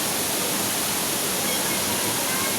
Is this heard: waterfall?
yes